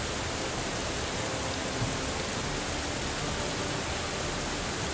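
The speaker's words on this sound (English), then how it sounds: "I feel like I need to yell over the rain." Steady rain from the Steins;Gate 0 video game pours without break, a dense, even hiss that stays loud and uniform throughout with no voices over it.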